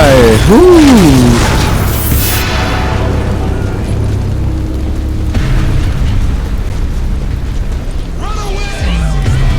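A loud explosion in the video game Hatred, a heavy boom with crashing debris and a long rumbling tail, mixed with game sounds and a person talking excitedly.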